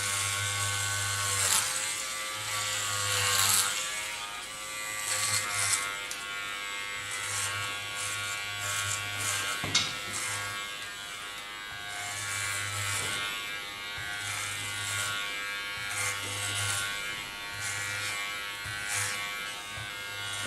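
Electric hair clippers buzzing through the sides of a short pixie cut, a close, steady motor hum that pulses as the blades pass through the hair again and again, with no voices.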